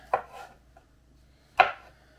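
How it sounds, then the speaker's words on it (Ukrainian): Two crisp knife chops through mushrooms strike a cutting board, the second sharper, separated by a pause of over a second in an otherwise quiet kitchen. "Тому я ось так поріжу на частинки."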